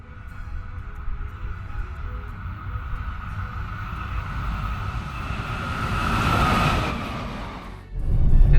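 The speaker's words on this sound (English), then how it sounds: "So we have a train action coming up." A train rumbles past nearby on a Rajasthan route, a steady broad roar that swells toward the end before a loud gust of engine or road noise takes over.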